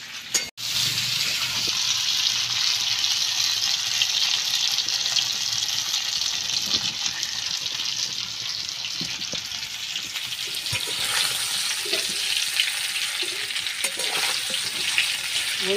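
New potatoes fry in hot oil, a steady dense sizzle with occasional stirring clinks and scrapes, continuous and fairly close, with no voices.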